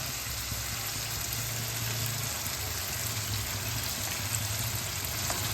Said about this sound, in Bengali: এবার আমি দিয়ে দেবো ম্যারিনেট করা মাংসটা।